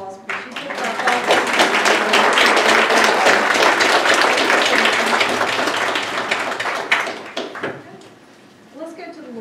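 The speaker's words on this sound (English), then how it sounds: "let's give Stacy a big round of applause because she took that back." A church congregation breaks into sustained applause, a dense wash of many hands clapping for several seconds before tapering off, with voices emerging as it fades.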